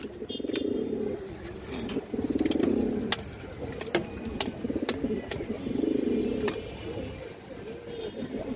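Pigeons cooing close by in a loft, repeated low throaty rolling coos in overlapping waves, with scattered clicks and small knocks in between.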